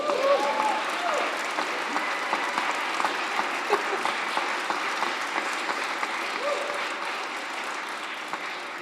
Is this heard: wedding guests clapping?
yes